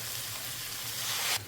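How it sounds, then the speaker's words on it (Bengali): Shrimp and potatoes frying in a pan for an echor chingri dish, a steady close sizzle with no voices that swells slightly just before it cuts off. "এবার চিংড়ি মাছগুলোকে দিয়ে দেবো। ভাজা ভাজা করে নেবো।"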